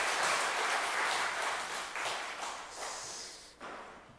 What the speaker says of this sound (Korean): 뜨겁게 박수를 보내드리겠습니다.